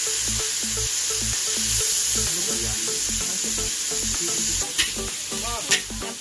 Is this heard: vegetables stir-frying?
yes